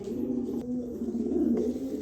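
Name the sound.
black checker pigeons cooing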